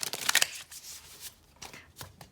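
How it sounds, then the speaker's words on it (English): Tarot cards being shuffled, a quick flurry of crisp riffling snaps at the start, then a few softer scattered card flicks, close and clear, with no talk. "I just love shuffling on camera."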